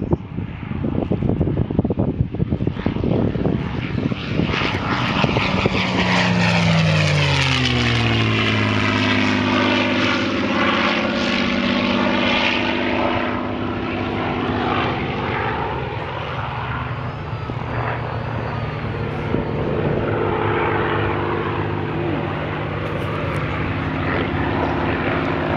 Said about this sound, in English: Jamie, 51D Mustang, final pass.